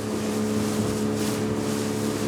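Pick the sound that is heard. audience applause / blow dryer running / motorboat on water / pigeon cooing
motorboat on water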